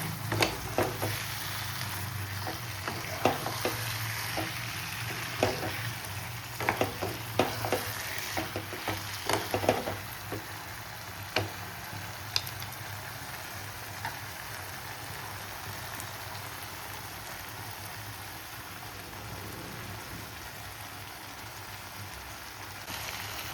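Chicken sizzling and frying in a pan as it is sautéed into kosha for chicken pulao, with spoon stirring scrapes and clinks early on, then a steady soft sizzle continuing alone.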